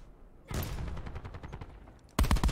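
Black Ops 4 multiplayer gunfire on the Arsenal map: a dense, rattling burst of rapid shots, then a louder, closer volley of fire that cuts in abruptly near the end.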